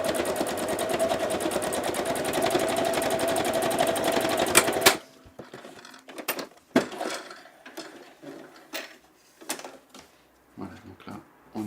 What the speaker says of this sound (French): Donc du coup je vais commencer à coudre ici.